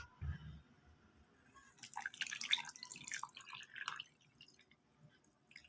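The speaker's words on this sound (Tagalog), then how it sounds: "Lagyan natin ng tubig." Water poured into a container holding dirty copper-nickel peso coins for a rock tumbler cleaning solution, heard as a few seconds of irregular close splashing and trickling that then fades.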